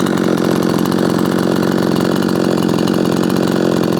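Ported, repaired Efco 165 chainsaw held at a steady, high, buzzing rev, loud and close, with no pauses and no talking.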